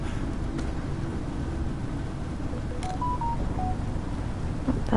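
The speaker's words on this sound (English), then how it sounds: "That's my phone." A short run of electronic phone tones, several stepped beeps at about three seconds in, rises over a steady low rumble of ambient background noise; the beeps are clear but modest in level.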